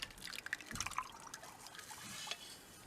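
Lye water strained through a strainer into cold oils for aloe vera cucumber soap, giving a light, close trickle and scattered drips for a few seconds.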